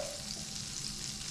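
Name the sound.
fish sizzling in pan for stew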